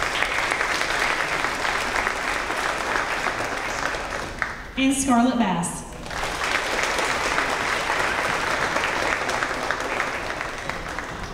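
Audience applause at a fourth grade school promotion ceremony honoring student leaders, steady dense clapping across the whole stretch with a brief dip where a voice announces a name over a public address system.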